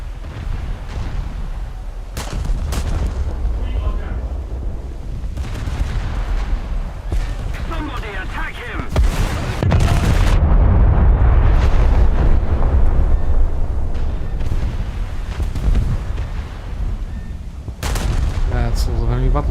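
Battleship guns firing and shells exploding in World of Warships, a dense, loud, continuous roar of booming salvos and blasts with heavy low rumble throughout, a voice speaking over parts of it.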